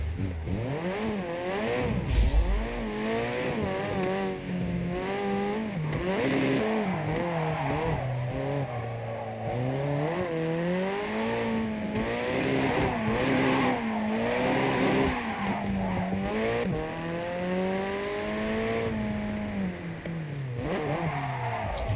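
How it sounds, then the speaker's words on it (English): Engine of a car in the racing game JDM: Japanese Drift Master revs loudly and continuously, its pitch sweeping up and down through repeated gear shifts, with occasional tire squeals and no talking. "the car engine noises are quite loud"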